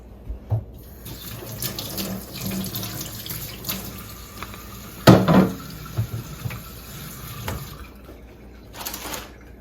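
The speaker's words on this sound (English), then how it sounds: "I'm gonna give my hands a quick wash before that stains." Tap water runs into a sink during a quick hand wash, a steady nearby splashing stream with a louder burst midway as hands move under the flow and a brief rise again at the end.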